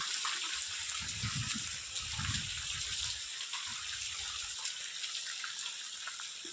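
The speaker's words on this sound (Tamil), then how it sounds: "மேலே சிண்டெக்ஸ் டேங்கில் இப்போதைக்கு நிறைஞ்சு தண்ணி ஊற்றிக்கிருக்கு." Water pouring steadily into a Sintex plastic storage tank up on a farmhouse roof, a continuous splashing gush with a few heavier low surges early on, close and alone.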